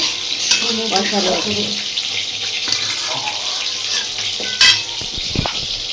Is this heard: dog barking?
no